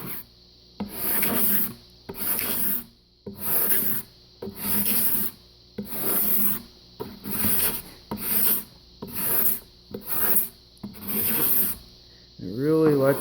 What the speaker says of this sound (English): What that allows you to do is to scrape away at the wood.